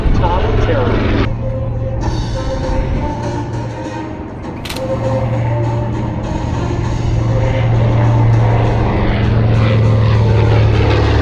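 A USMC PBJ B-25 Mitchell bomber, the Devil Dog, flies past at the Beaufort Airshow. The propeller engines give a loud, steady droning roar that swells and holds, with a voice talking over it.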